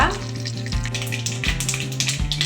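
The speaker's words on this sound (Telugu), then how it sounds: "ఇప్పుడు పోపు పెట్టుకోవాలి పోపు దినుసులు ఎండుమిర్చి కొంచెం ఇంగువ" Seasoning spices, dried red chillies and asafoetida sizzle loudly in hot oil for a leafy-greens dal, a close, dense, continuous crackle and hiss.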